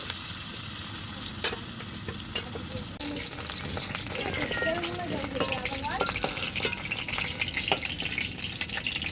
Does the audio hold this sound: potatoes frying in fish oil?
yes